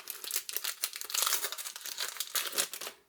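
Crinkly foil wrappers of Panini Mosaic UEFA Euro 2020 soccer card packs being torn open from a hobby box, a quick rapid run of close crackling and crumpling bursts.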